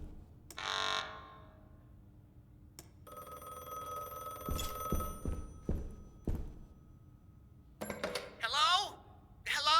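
An old telephone rings inside the video game Amnesia: The Bunker, a few sharp metallic ring bursts spread across a dim, rumbling game soundscape with clanks and other effects, while a person talks over parts of it.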